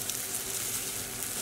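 Zucchini fritters fry in a pan with a steady, close hiss of sizzling oil, unbroken and without speech.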